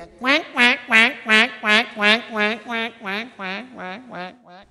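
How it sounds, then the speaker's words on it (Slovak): A flock of wild geese calls overhead, a steady series of about a dozen loud, nasal honks in even rhythm, gradually fading as the birds move away, with no talking. "A čo letí nad hlavou? Krdeľ divých husí."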